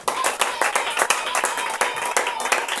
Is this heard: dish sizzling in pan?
no